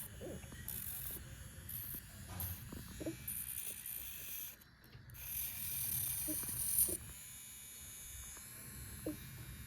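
An electric baby nail trimmer buzzes steadily close up, its motor pitch wavering and briefly stopping as it touches skin, with faint background sounds and no speech.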